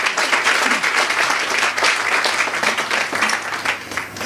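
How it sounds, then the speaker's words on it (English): Loud, continuous applause from an event audience, a dense crowd of clapping hands holding steady for several seconds with slight dips near the end. "Another round of applause, please, for Lanny."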